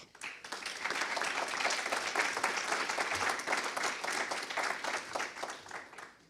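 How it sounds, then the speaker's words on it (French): Audience applause in a conference hall during an opening speech at a partners' day, dense even clapping from a sizable crowd that swells quickly, holds for several seconds, then tapers off. "Je crois qu'on peut les applaudir."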